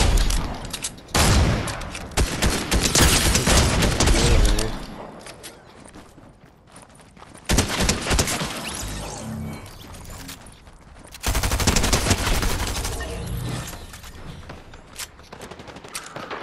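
Video game firefight between opposing groups, loud sustained bursts of automatic gunfire in three heavy waves separated by quieter stretches of scattered shots.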